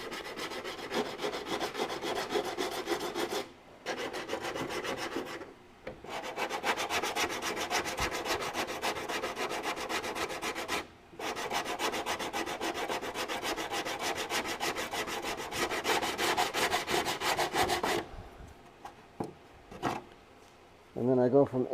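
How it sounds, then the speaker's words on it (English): Body filler on a car dash or nose being hand-sanded with 80 grit sandpaper: long, steady, loud rasping strokes in several sustained bursts with short pauses, ending in a few quieter scrapes. "I like to use 80 grit to break down this filler."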